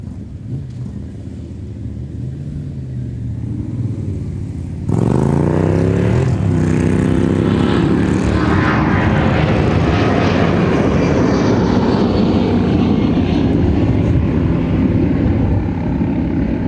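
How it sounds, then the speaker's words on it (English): A Boeing 757 jet takes off at full thrust, its low rumble suddenly swelling into a loud, sustained bellowing roar with a harmonic buzzsaw drone that holds steady for over ten seconds. "757s produce this bellowing harmonic buzzsaw when they take off at full thrust"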